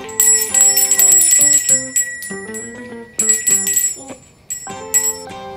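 A bright chiming bell jingle used as a subscribe reminder, playing a quick, loud run of ringing tones in bursts with short gaps, heard on its own without talk.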